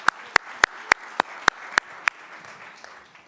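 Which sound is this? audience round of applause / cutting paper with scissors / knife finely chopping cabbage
audience round of applause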